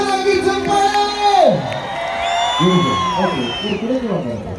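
A crowd at a Bigg Boss Rakshitha appearance in Vitla cheers and whoops loudly, with high shouted calls rising and falling over a steady roar of voices; no distinct clapping stands out.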